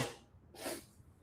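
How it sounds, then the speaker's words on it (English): A single quiet sneeze, a sharp breathy burst midway through with faint breathing around it. "I gotta sneeze."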